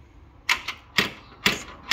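The door latch on a pre-war Riley Brooklands car clicks shut in two stages. Several sharp, close metallic clicks come in quick pairs against a quiet background.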